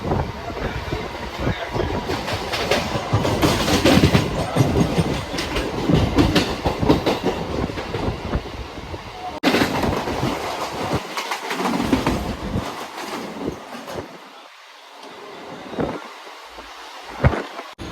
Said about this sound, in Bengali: আমাদের ট্রেন ছেড়ে দিল শেওড়াফুলি জংশন থেকে।